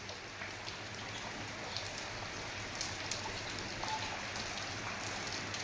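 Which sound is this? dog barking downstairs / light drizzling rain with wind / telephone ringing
light drizzling rain with wind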